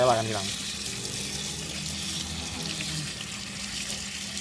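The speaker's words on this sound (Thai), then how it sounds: "ล้างเอาคราบน้ำทะเลออกให้หมดนะครับ" Tap water runs steadily over a phone being rinsed of sea water, a continuous hissing splash from a faucet heard up close.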